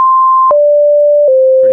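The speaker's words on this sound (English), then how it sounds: "Let me play the Metasound for you real quick." A clean synthesized tone from an Unreal Engine 5 MetaSound plays three sustained steady notes in a row, each stepping slightly lower in pitch, loud and dry with no background.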